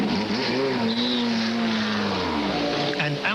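A GT race car leaves the pits at Monza in a 1999 FIA GT race. Its engine is loud and close, with a steady note that rises and falls under faint commentary and track noise.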